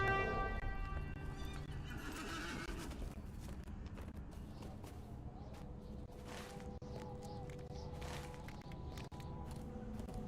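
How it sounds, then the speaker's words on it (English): A warhorse in Lord of the Rings Online gives a loud, shrill whinny at the start, followed by steady, soft hoofbeats and faint game ambience without any speech. "let's just mount up on our warhorse."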